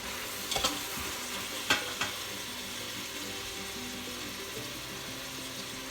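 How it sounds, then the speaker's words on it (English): Ground beef sautéing and browning with onions in a pan, a steady low sizzle with a few clattering stirs of a utensil near the start, close and moderately quiet, no voices. "I just have the meat sauteing, browning a little bit"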